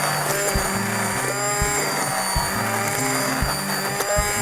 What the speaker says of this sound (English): I'm just going to use my immersion blender because all you want to do is really combine these